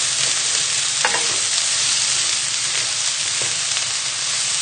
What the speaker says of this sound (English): Give this a little stir around the pan. And we're just going to cook the mushrooms and everything for about a minute.